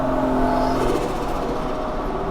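Turbo Barra-engined restomod Toyota Land Cruiser FJ45 engine running on the throttle, a steady, fairly loud engine drone with a brief surge, heard up close.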